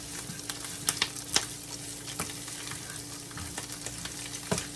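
Quartered Brussels sprouts caramelize in a pan, a steady sizzle with occasional sharp pops and crackles, close and alone.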